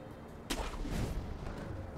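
A single deep mortar boom thuds out in the Sekiro video game, sharp at onset and followed by a brief low rumble, fairly distant and moderate over steady background noise.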